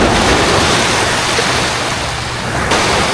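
Sea waves washing onto a beach, a steady loud wash of surf mixed with wind noise, continuous and close.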